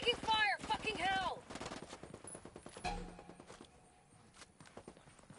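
Rapid bursts of gunfire crackle in the tactical shooter game Ghost War, a dense rattle at first that thins into scattered shots as a voice shouts over the start.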